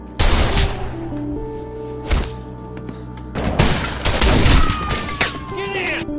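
A cowboy-film shootout erupts with several loud, booming gunshots in bursts, a cluster at the start, a single blast midway and a rapid volley near the end, over a sustained tonal background.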